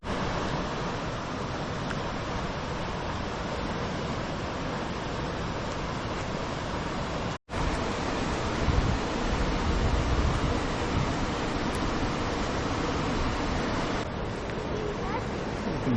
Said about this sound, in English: waterfalls for the kayakers to go down